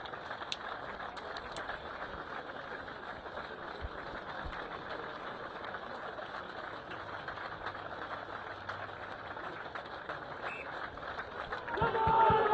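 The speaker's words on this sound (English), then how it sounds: "all who celebrate her today, as we are with a minute's applause" A stadium crowd gives a minute's applause at a women's university rugby semi-final, Exeter versus Cardiff Met, in tribute to a player. The clapping is a steady, distant wash that stays even for about twelve seconds and swells slightly at the end.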